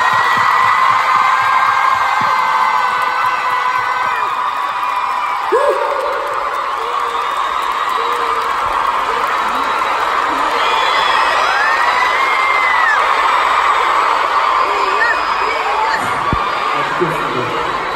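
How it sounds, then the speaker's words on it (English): A concert crowd of fans cheers and shouts continuously at a Los Angeles show, a loud, sustained roar of voices with whoops rising above it throughout. "Should we give a round of applause to our Kyung today?"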